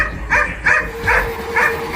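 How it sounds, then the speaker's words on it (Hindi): Dog barking as a sound effect in a Hindi horror story: four loud, close barks spaced evenly about half a second apart, each a sharp woof with a slightly whining edge, with no voices. "सत्यम के कमरे से जोर जोर से किसी के भौंकने की आवाज आई"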